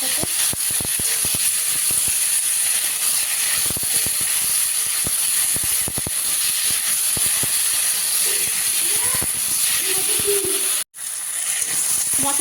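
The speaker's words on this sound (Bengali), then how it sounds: "এবার এই মশলাটা একটু ভালো করে মিষ্টি কুমড়োর সাথে কষিয়ে নেব" Raw pumpkin being fried and stirred with a cumin and ginger spice paste in a pan, giving a steady loud sizzle with scraping and stirring clicks throughout, briefly cut off near the end.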